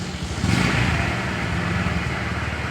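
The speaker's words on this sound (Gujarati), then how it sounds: "બાઇક ચાલુ થઈ ગઈ." A motorcycle engine starts outdoors and settles into a steady running hum, moderately loud and close.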